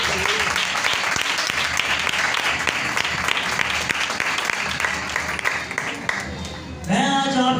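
A church congregation breaks into loud, sustained applause during a sermon, dense clapping with scattered voices carrying on throughout, then fading near the end as a musical keyboard tone enters.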